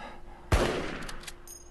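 A single sharp assault rifle shot from the survival game LIFE AFTER cracks loudly and close, followed by a short decaying echo and faint clicks.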